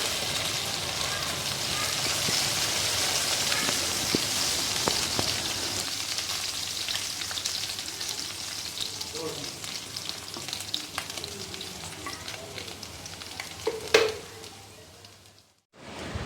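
Garlic, ginger and curry leaves frying in hot oil, a dense steady sizzle with scattered pops and a brief louder burst of spitting near the end before it cuts off.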